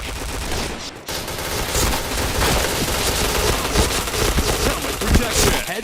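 Dense, loud bursts of automatic gunfire in the mobile game Nobunaga Katana, rattling almost continuously for several seconds with game effects layered on top.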